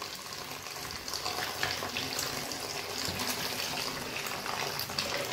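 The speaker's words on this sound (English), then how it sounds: "So, we're going to rinse these off once more with some more vinegar." Running water rinses pop choy with vinegar in a kitchen, a steady, close splashing flow from a tap that continues without break and without talk.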